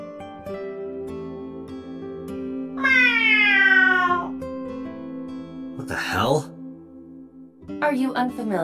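A voice imitates a cat's meow in the game AI: The Somnium Files, with two drawn-out, wavering mews and a shorter third cry rising over steady background music and soft tones.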